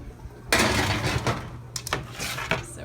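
Baking trays loaded with cauliflower pizza crusts go into a home oven: a sharp metallic clatter and scrape of pans on the racks, a few knocks, then an oven door thud.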